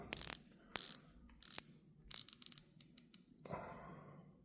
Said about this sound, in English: nice sounding clicks as you rotate it.